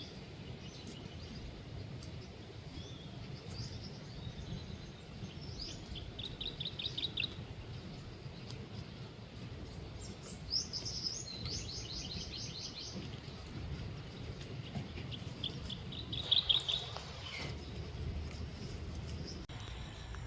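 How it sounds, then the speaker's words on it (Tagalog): Scattered high chirps and short trilling bird calls come and go over a steady low rumble of background noise, fairly faint and at a distance. "may ibon tayo dito guys oh"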